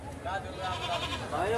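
A goat bleats in a quavering, drawn-out call at a goat market in Okhla, close and fairly loud, with a second bleat rising near the end amid background chatter.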